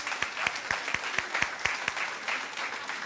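An audience at a talk applauds with a regular rhythm of clear, fairly close claps, moderately loud and steady throughout.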